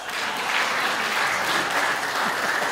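A comedy stage audience applauds steadily through a spoofed political song performance, a dense, even wash of clapping with no voices over it.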